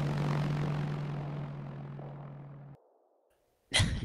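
A Cessna light aircraft engine in the video game Arma 3 drones steadily and fades out over a few seconds, cuts to near silence, then a short loud burst of noise follows.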